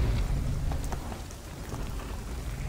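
A storm with heavy rain and rumbling thunder in the video game The Cycle: Frontier, a steady loud downpour with a deep low rumble throughout and no talking.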